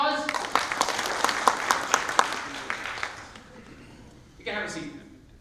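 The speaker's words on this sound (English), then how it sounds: "let's give him a round of applause." A sales summit audience breaks into a round of applause, with sharp, loud claps at first that soon thin out and fade, followed by a voice speaking near the end.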